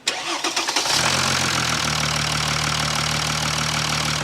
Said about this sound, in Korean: 자, 이제 플러싱 오일을 벗으니까 한번 시동 한번 걸어 볼게요.